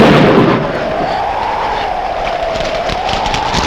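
A deep rumble of thunder rolling through a rain scene in a Telugu film, loud at first and then fading into a steady wash of rain noise.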